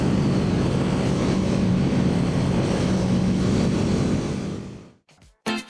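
A Kawasaki Eliminator 500 motorcycle ridden through bends gives a loud, steady engine and wind roar that fades and cuts out near the end, followed by a couple of brief bumps.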